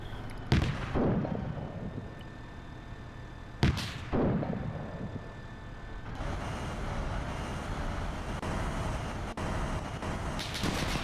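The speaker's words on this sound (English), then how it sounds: "Danger close mortars, beware." Mortar rounds exploding in a video game, with two sharp heavy blasts early on, followed by a sustained rumbling battle din with scattered distant impacts.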